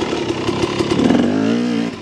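Motorcycle engine dropping from third to second gear with the clutch on tight corners, a steady close drone with pulsing revs that slide to a lower, smoother pitch partway through, no talking.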